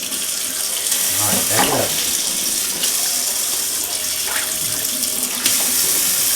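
Running faucet water rinses a Golden Retriever puppy during its first bath, a steady broadband splashing wash that continues throughout, with someone speaking briefly over it.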